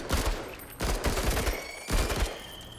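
Three bursts of video-game gunfire from the tactical game Menace, each volley a loud cluster of sharp shots followed by a short lull, no voices.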